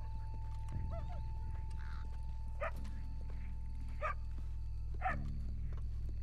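A dog barking in Red Dead Redemption 2 at night near grave robbers, several spaced single barks fairly near over a constant low ambient hum, alongside faint hoof sounds of a horse.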